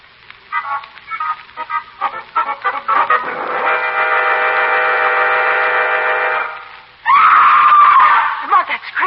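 A woman screams in an old-time radio drama, with choppy voices first, then a long, loud, sustained shriek. After a short break a second piercing cry rises and falls.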